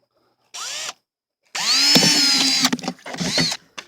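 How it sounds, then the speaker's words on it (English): A power drill whirs in short bursts, a brief spin followed by a longer high-pitched run biting into material, then stopping and restarting. "I'm going to go ahead and drill some holes"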